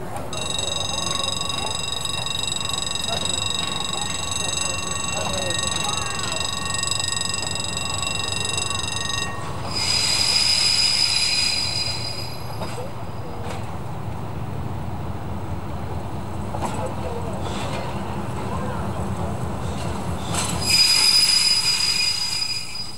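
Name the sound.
Picasso X-3800 railcar arriving on a secondary line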